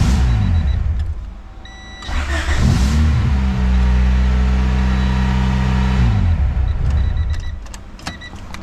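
Honda EG hatchback with a swapped H22A engine idling, then revving up loudly for several seconds with a strong low rumble before settling back, close by with no talk.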